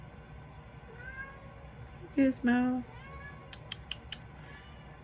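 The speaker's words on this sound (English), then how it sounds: "So of course he's going to meow to his mommy" A pet cat named Gizmo gives a couple of short, close meows indoors near a utility room, with a few faint ticks after and a voice speaking around them.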